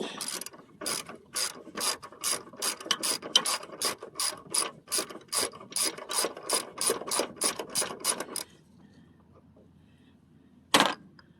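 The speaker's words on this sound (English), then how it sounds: "Go back to the smaller ratchet." A hand ratchet clicks quickly and steadily in a long run of even strokes during a serpentine belt pulley install, close up, then stops. A single sharp clack follows after a pause.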